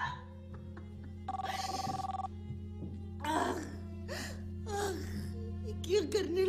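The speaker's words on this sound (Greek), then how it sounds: "Πάρτο. Το τηλέφωνο." An indoor telephone bell rings in a couple of short electronic bursts, with people talking and gasping around it in a dramatic scene.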